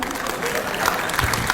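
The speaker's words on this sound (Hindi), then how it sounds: "थोड़ी सी तालियां आप भी बजा दीजिए" An audience at a devotional bhajan gathering claps steadily, producing a dense, continuous wash of applause from a crowd of people.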